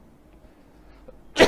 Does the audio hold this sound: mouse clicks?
no